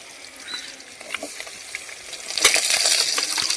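Raw jackfruit pieces fry in a pan, a soft steady sizzle that swells louder and denser in the last second as the pieces settle in, with faint scraping and no talking.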